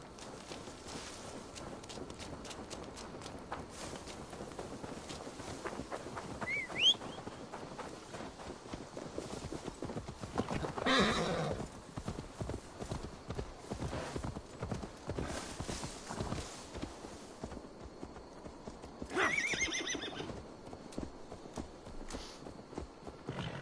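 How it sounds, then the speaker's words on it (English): A horse's hooves clip-clop steadily in the Assassin's Creed Valhalla video game, with a couple of neighs and whinnies rising over the rhythmic footfalls. "Now to deliver Magni his horse."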